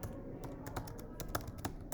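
Fingers tap out a password on a computer keyboard, a quick, uneven run of light clicks with no one speaking.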